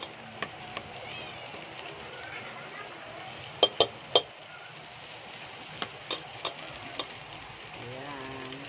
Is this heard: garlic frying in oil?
yes